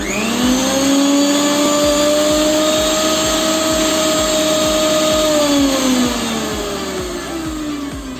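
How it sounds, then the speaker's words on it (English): A homemade DIY mixer motor runs steadily under power for the whole stretch, giving a loud, continuous whine with a faint rhythmic ticking. Its pitch drops slightly near the end. No one speaks over it. "So I will start the mixer."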